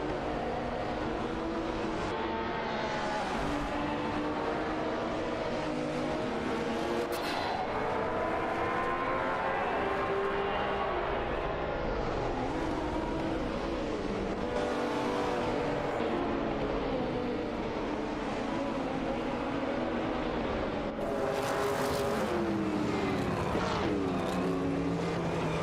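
Two race cars, a Toyota Celica Turbo and a BMW M1 E26, battle in a video game race, with continuous engine drone and shifting pitch sweeps as they jockey for position, filling the whole stretch without pause.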